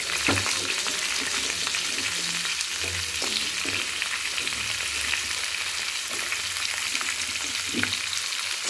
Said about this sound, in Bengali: এবার আমি নাড়াচাড়া করে সুন্দর করে ভেজে